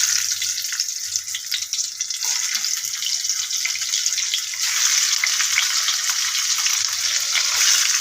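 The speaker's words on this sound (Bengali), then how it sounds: "এবার কপিটা ভাজবো, কপিটা ভেজে নেবো, কপিটা একটু ভেজে নেবো।" Cauliflower frying in oil in a wok, a steady hiss and sizzle that holds for several seconds, close and even, with faint clinks of stirring and no talk.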